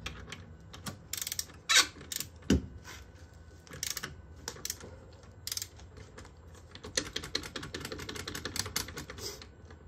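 A brake bolt on a Tesla Model S P85 being tightened by hand with a ratchet wrench, quick bursts of clicking pawl ratchet strokes with a few metallic clinks, close and moderately loud over a quiet garage background.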